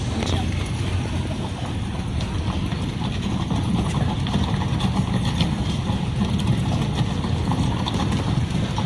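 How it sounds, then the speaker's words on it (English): A dense, continuous rumble of many hooves pounding together, loud and steady throughout, like a large group of horses galloping close by, at a Civil War burning of Chambersburg reenactment in Pennsylvania. "I hear horses. Many, many horses."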